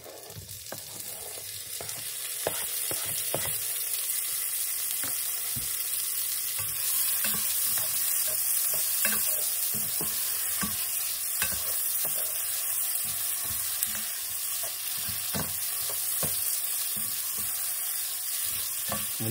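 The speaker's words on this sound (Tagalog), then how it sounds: "Lutuin lang natin ng konti yung kamatis." Tomatoes cooking in a hot frying pan for lengua estofado, giving a long steady sizzle with scattered scraping and tapping from stirring, close and even throughout.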